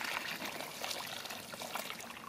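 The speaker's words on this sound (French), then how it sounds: "on va mettre 20 litres d'eau" Water pours out to soak the soil around a freshly planted kiwi in the garden, a quiet, steady trickling stream heard briefly with no talk.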